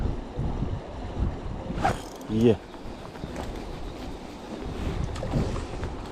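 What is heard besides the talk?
wind blowing outdoors by a small river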